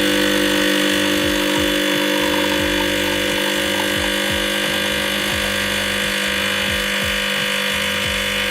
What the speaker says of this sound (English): Usual amount of noise for a vibration pump.